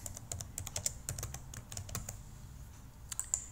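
Text being typed on a computer keyboard into an editable PDF form, with quick, light, close key clicks in short irregular runs and a faint background hum.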